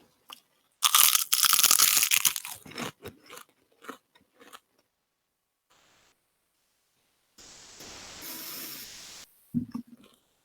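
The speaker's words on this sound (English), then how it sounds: "Wow, that was a crunch. That was the driest thing I've ever eaten in my life." A very dry edible bug gets crunched loudly up close: a dense burst of brittle crackling bites, then scattered smaller crunches, a pause, and a later stretch of hissy chewing noise.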